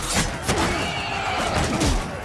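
Horse neighing in Mount and Blade II Bannerlord during a battle charge, a loud, close whinny rising and falling over a dense roar of fighting and hooves.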